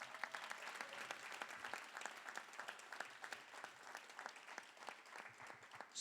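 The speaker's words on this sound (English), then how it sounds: "we just want to give him a round of applause" An audience at a community conversation event applauds steadily, dense clapping from many hands throughout, moderately distant and quite faint.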